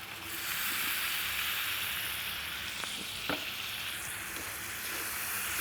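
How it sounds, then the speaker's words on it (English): Spices and seasonings such as paprika, soy sauce and Worcestershire sizzling steadily in a pan for a spicy aloo paratha potato filling, a close, continuous fry with a few soft stirring clicks and no talk. "let those spices cook in"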